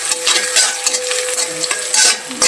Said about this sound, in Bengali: জিরা আর এই যে ডাল ফোড়ন, পাঁচফোড়ন সেটা নিয়েছি, সেটা দিয়ে কিন্তু আজকে এই বাগারটা দিব।